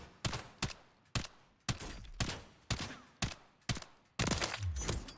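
Bal-27 rifle fired at a training dummy in Call of Duty, about nine sharp, evenly spaced single shots with short decays, the last ones coming closer together.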